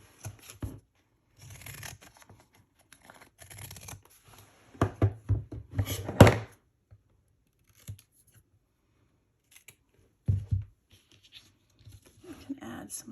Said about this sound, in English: I'm going to use my pinking shears.